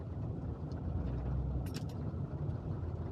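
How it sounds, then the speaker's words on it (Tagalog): Steady road traffic on the SLEX southbound highway near Alabang, a continuous broad engine and tire rumble with no standout events, heard from nearby. "Haba-haba tong traffic ah"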